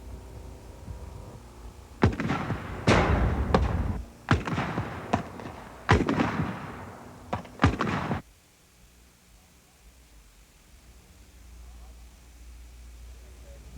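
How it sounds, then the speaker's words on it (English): Practice rounds are fired from a LAW rocket launcher during Army basic training at Fort Leonard Wood, with a cluster of sharp bangs and thuds over about six seconds, then a sudden drop to quiet outdoor ambience. "Firing the law rocket is another thrill."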